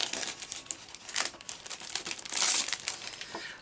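Crinkly plastic wrapping rustles and crackles while someone opens a pack of 6x8 scrapbook paper, a close, continuous bright crumpling with uneven bursts and a louder tearing flare partway through, with no talking.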